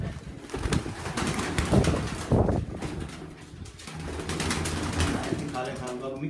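Pigeons coo close by, racing birds kept by a pigeon fancier, with fluttering and steady background noise while people talk over them.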